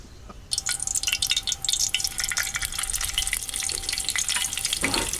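Cumin seeds hit hot oil in a kadhai and burst into a loud, steady sizzle and crackle that carries on right up close for several seconds, with no talking.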